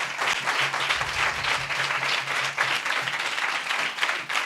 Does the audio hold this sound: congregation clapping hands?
yes